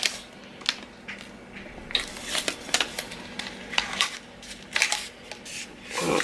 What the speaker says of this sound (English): I am just taping this down